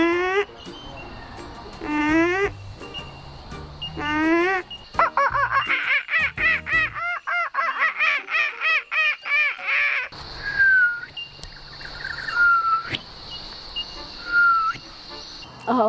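Children mimic bird calls at a bird-calling contest in Australia, producing quacks, caws and warbling whistles in quick, animated bursts; the voices imitate the birds, with one long, busy stretch of trilled calls and rising chirps near and loud.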